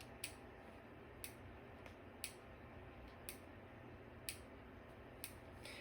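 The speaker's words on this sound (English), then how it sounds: "So we are now pulsing the bell output relay" An alarm panel's bell output relay clicks sharply about once a second, six times, each tick crisp and isolated over a quiet hum, on a Radionics D4112 security system.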